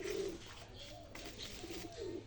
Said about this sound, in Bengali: এটা আমার একটা জ্বালালি কবুতর